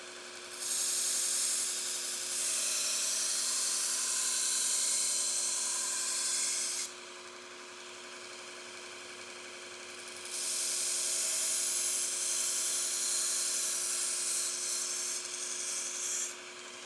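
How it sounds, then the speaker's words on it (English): A 2-inch belt grinder with a 120-grit ceramic belt sharpens a knife blade, a steady abrasive grinding hiss that drops off for a few seconds midway, then resumes at full strength. "When using my 2-inch machine for sharpening, I like to use these MagnaPeak belts."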